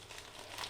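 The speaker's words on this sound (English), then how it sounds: "Now this one being the bubble wrap bag." A bubble wrap shipping bag sealed with glue stickers crinkles softly in the hands for a brief, close moment, faint and continuous.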